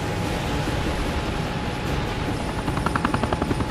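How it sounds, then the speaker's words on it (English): A helicopter flies nearby with a steady broadband rotor and engine roar throughout, and a rhythmic blade chop becomes more pronounced toward the end, with no talking over it. "I see the helicopter!"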